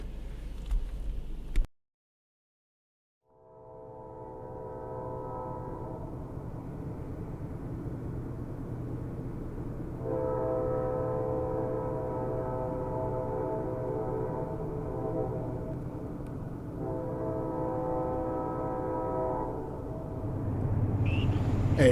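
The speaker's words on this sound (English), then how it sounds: "there's a train going east" A train passing at a distance, heading east, with a steady low rumble and layered harmonic engine tones that swell around the middle and ease off, after a brief silent gap at the start and no talk.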